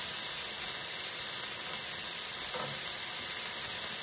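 Onions fry in a pan, a steady soft sizzle with a faint hiss and a brief stir midway, heard up close with no talking.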